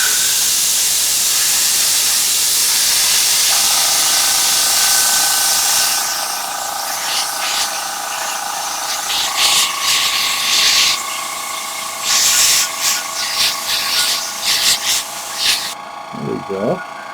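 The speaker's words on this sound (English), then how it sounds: "sorry about the compressor in the background, guys. It's like right next to me here." Air compressor running close by while model paint is airbrushed on a Tamiya 1/35 U.S. M40 155mm gun kit, a loud steady hiss joined by a constant motor hum, with intermittent spray bursts and a short voice near the end.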